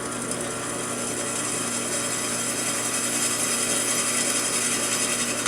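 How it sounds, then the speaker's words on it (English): A steady, continuous whir of an inexpensive drill press running and boring holes for mounting a 1/2 HP condenser fan motor, loud and unbroken throughout with no talking. "Drill press does nice work."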